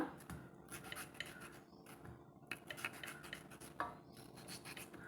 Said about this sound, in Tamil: இது போல் கட் பண்ணிக்கலாங்க பாருங்கள் தக்காளி இது போல் வெட்டிட்டு